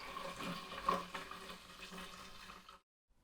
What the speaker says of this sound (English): fill up to the fill line with hot water, put the cap on, and then give it a good shake